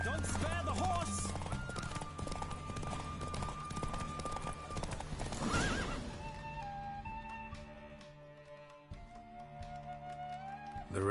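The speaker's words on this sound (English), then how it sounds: "Don't spare the horse!" Hooves beat out a rapid clip-clop as a horse gallops in a race in The Witcher, with a neigh partway through and voices talking over the rhythmic pounding.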